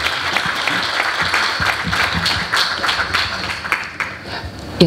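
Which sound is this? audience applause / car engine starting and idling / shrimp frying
audience applause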